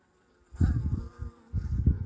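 Honeybees buzz at a hive during an early March inspection of a weakened overwintered colony, two close bursts of low droning hum separated by a brief dip, with quiet before the first.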